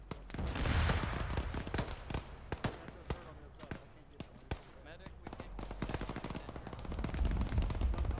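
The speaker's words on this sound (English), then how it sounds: "Sounds like it's taking fire from something." Video game gunfire in a military combat match: dense bursts of rapid automatic shots and scattered single reports crackle at mid distance against a constant rumbling backdrop, while players talk over the action.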